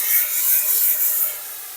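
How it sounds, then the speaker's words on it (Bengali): Boiled dal tipped into hot oil in a wok gives a short, bright sizzling hiss that holds for a moment and then softens. "ডালটা সুন্দর করে সিদ্ধ করে রেখেছি কড়ার মধ্যে গরম তেলের মধ্যে দিয়ে দেবো"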